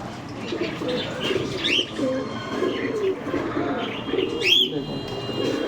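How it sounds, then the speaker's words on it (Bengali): Pigeons at a pet bird shop in Serampore give soft, low repeated coos, with thin chirps from other birds scattered through a steady background murmur. "এটা কি পায়রা"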